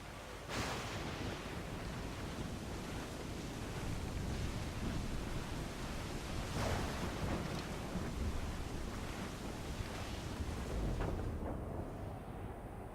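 Storm at sea in Assassin's Creed IV Black Flag: a dense, roaring wall of wind, rain and crashing waves, steady and loud throughout, with occasional heavier surges like breaking swells or distant thunder.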